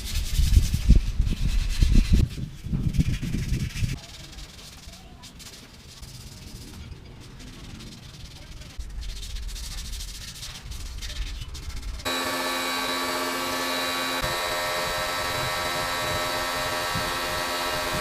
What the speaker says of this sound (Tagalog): So yun guys, bali ito nga pala yung gagamitin nating liha,